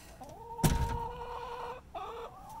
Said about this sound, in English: The chicken's coming out to greet me.